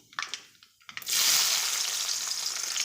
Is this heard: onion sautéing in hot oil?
yes